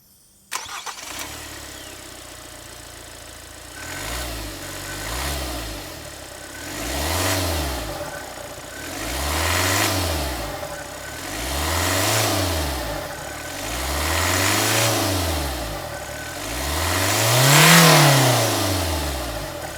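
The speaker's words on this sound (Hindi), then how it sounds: "अब इस इंजन को हम स्टार्ट करते हैं, क्या साउंड आती है आप देखिए।" A Kia Seltos facelift's U2 CRDi diesel engine cranks and catches, then settles into a clattering idle broken by a series of evenly spaced revs that swell and fall, the last one loudest, heard close up.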